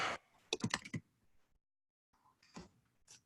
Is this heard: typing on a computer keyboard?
yes